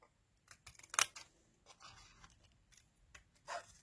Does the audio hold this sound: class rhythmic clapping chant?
no